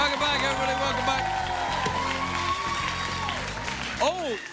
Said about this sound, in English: Applaud, studio audience, who nearly saw me die.